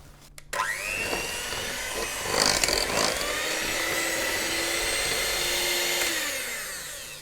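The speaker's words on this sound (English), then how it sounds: "I'm going to mix it again" Electric hand mixer beating chocolate cake batter with melted chocolate, a steady whirring motor hum that starts abruptly and runs loud and continuous for several seconds, pitch shifting slightly as the beaters work.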